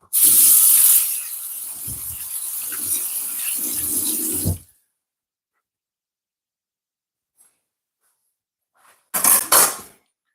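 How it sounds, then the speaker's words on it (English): Tap water hisses loudly into a kitchen sink while a knife and hands are washed, with a steady spray for several seconds that cuts off into silence and then a brief final splash of water. "I'm just gonna give this knife a wash and wash my hands off"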